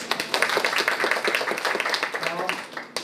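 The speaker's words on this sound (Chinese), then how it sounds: "卢老师，给他掌声一下哈。" Applause for a teacher at a smartphone video-shooting class held by Hualien City Office: a small group claps briskly and steadily for a few seconds, close and moderately loud, with a voice talking over it.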